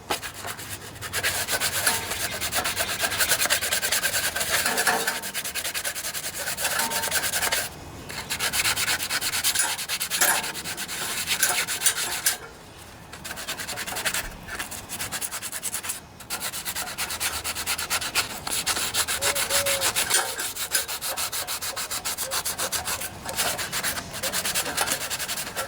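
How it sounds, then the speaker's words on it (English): A small sanding sponge rubs over an engine's head gasket surface on a Briggs and Stratton OHV Intek engine, giving continuous close scratchy strokes with short pauses, no talk. "I also have a little sanding sponge that I'll use to smooth things off a little bit."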